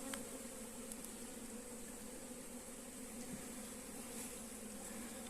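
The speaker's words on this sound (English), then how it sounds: "Lots of bees" Honey bees swarm over brood and honey frames in an opened hive, a dense steady buzzing hum that stays close and even throughout, with no voices.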